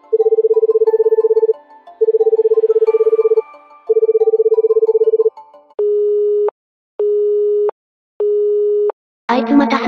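An unanswered phone call first plays three long bursts of a warbling ringback tone, then three flat beeps of even length with gaps between them, and ends in a short burst of noisy chatter.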